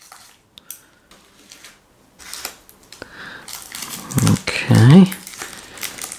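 Panini FIFA 365 Adrenalyn XL 2020 card pack being torn open, crinkling foil rips building to louder tearing near the end, close up, with a voice speaking briefly.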